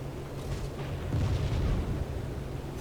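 Anti-aircraft flak fire in the IL-2 flight combat game, heard as a steady low rumble with muffled booms swelling in the middle of a short passage, with no voices.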